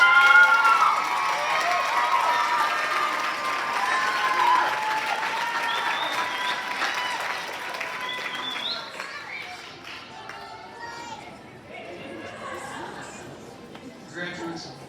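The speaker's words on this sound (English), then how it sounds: "Please give them all a round of applause." Graduation audience at Charter College in Salt Lake applauding the instructors, loud crowd clapping with cheers and scattered shouts and voices, strong at first and gradually fading over about fifteen seconds into lighter claps and chatter.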